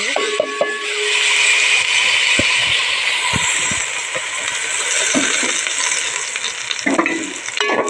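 Spices sizzle steadily in a hot pan while making kheer payesh, with occasional scraping and clinks of a spoon stirring, no voices.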